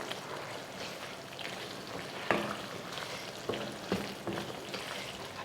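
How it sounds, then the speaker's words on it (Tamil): Chicken gravy in a pan sizzles steadily while being stirred after a sprinkle of kasuri methi, with a few sharp scraping clinks of the spoon against the pan over the soft continuous fry. "கொஞ்சமாக கசூரி மேத்தி இந்த மாதிரி மேலே தூவிட்டு கிளறி விட்டுட்டு இறக்கிக்கலாம்"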